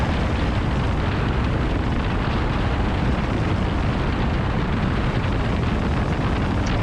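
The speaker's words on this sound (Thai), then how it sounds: "ลม ลมแรงมากนะครับ" Strong, continuous roaring wind buffets the microphone while riding a 2023 Honda CB 750 Hornet motorcycle at high speed, a dense broadband rush that stays loud and unbroken throughout.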